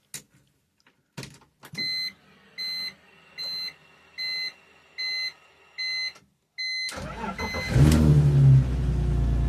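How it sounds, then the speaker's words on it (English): A BMW E46's chime beeps in a steady series of about seven tones, then the engine cranks and catches after oil system work, settling into a loud, rough idle. "It is time to start the engine."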